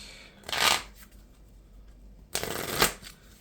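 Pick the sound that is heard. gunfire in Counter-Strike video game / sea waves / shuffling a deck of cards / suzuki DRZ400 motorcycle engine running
shuffling a deck of cards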